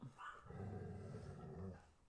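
A dog growls low and steadily for about two seconds, close by and fairly quiet indoors, with a faint higher yip near the start.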